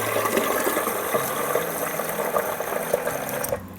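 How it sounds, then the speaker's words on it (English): Almond milk and water pour into a blender jar in a steady, splashing rush of liquid that lasts several seconds before stopping abruptly near the end. "then I'm gonna add some water on top of that."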